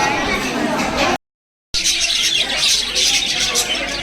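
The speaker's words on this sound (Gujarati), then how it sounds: "ને ચકલીનો અવાજ સંભળાતો હશે" Sparrows chirp in quick bright bursts close by, mixed with people talking, and the sound cuts out for a moment partway through before the chirping resumes.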